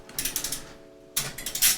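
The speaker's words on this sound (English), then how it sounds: "screwing in screws, always exciting" A ratchet screwdriver drives screws during a PC build, its quick runs of clicks coming close and clear in two bursts with a short pause between them.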